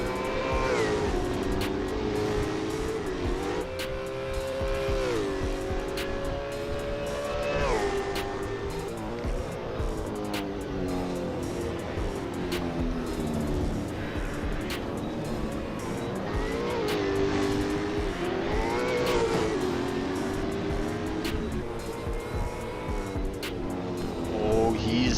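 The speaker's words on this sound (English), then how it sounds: "Puts that V8 supercar in the air." V8 supercar engine racing at Pukekohe in a sim racing game, a continuous high engine whine rising and falling through gear changes and corners, with commentary talking over it.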